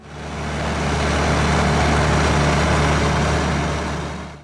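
An International Harvester 1066 tractor engine running at a steady, deep rumble, loud and close, fading in and out at the edges.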